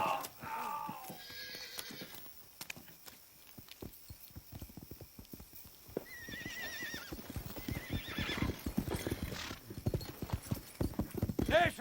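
Horses neigh and whinny while many hooves clip-clop on hard ground, building into a busy clatter as riders move off in a Western film scene, with brief voices.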